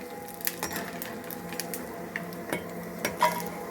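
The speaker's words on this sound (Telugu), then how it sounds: "ఇప్పుడు నేను ఈ వేపి మీకు చూపిస్తాను ఇగో చూడండి వేపుతున్నాను" Sago papads (saggubiyyam vadiyalu) frying in hot oil in a kitchen pan, a soft steady sizzle broken by scattered clinks and scrapes of a utensil against the pan, fairly faint and without talk.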